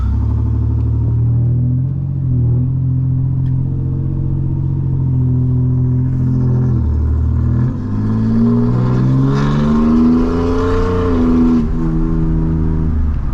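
A deleted and tuned 2019 Ford F-150 with the 3.0 Powerstroke diesel accelerates at full throttle, its loud, close engine roar climbing steadily in pitch through the gears with no talking.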